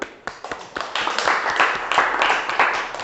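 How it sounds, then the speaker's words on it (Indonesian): Classroom of students in a pump mechanics lesson clapping for classmates, a close, lively patter of many hands that swells after a few opening claps and stays fairly loud for about three seconds. "Kita berikan tepuk tangan."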